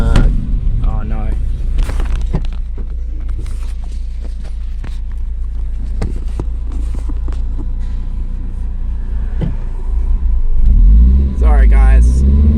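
A 2000 Toyota MR2 Spyder's engine drones steadily on the move, close and loud under people talking, then swells into louder revving near the end.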